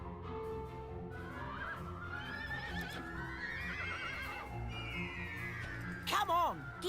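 A horse neighs in the Dragon Quest 8 video game, giving a loud, close whinny near the end that rises and falls. Hooves clip-clop beneath it and game voices talk throughout.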